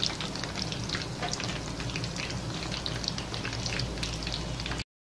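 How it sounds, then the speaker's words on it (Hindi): Potato cutlets deep frying in hot oil over a medium flame, a dense, even crackling sizzle like steady rain, close by and uninterrupted, then cutting off abruptly at the end. "डीप फ्राई करेंगे"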